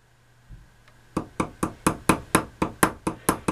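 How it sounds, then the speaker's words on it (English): A ball peen hammer tapping a soft brass pin lightly in a steady, even rhythm, about ten crisp taps in a row after a short quiet start. "Now you hear how lightly I'm tapping that?"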